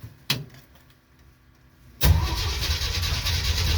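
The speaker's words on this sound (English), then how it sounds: "Get a whole lot of cranking." A 1969 Jeep CJ5, hard to start after sitting seven months, cranks on jumper cables: a short click, a quiet pause, then loud continuous starter cranking that carries on to the end.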